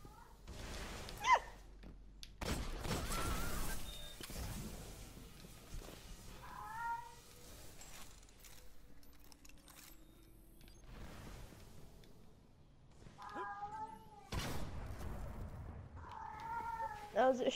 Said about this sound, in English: This cat has been trying to steal my Oreos